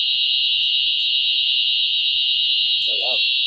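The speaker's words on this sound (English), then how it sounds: "That's just pure fire alarm." A loud, continuous high-pitched fire alarm tone rings steadily throughout, with a brief murmur of a voice near the end.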